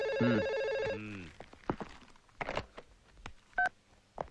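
A telephone in a Malayalam film scene rings with a loud electronic trill in short bursts for about a second, followed by handling clatter and a brief tone.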